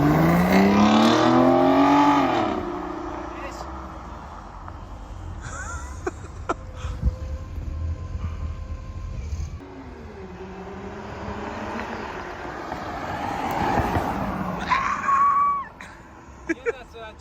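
A car drives around after being bought, its engine revving loudly up through the gears at the start, then fading into a steadier drone with passing traffic noise and a brief shout, under intermittent talk.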